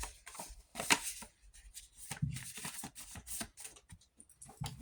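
Quick riffling and snapping of playing cards being shuffled up close, a rapid crackly flutter with brief pauses.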